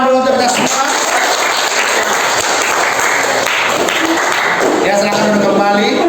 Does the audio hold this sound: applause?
yes